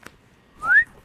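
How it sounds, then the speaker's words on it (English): A person whistles a single short rising signal note, close and clear, after a brief soft click. "You mean my whistling?"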